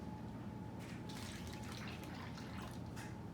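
Milk poured from a container into a plastic bag for ice cream in a bag, a steady liquid splashing and trickling that runs evenly throughout at low volume.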